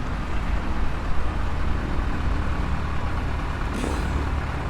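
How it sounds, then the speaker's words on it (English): Light Piper Cub taildragger in a flight simulator taxiing and braking, a steady broadband engine and rolling rumble throughout with a brief hiss-like brake sound near the end, loud and close, no talk. "Very effective brakes on this aircraft."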